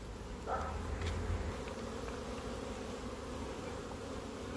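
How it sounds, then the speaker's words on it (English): Honey bees hum in a continuous, dense buzz from inside a hive box's bottom box, a close, steady drone with a brief swell near the start and no talking. "there's a lot of bees here in the bottom box"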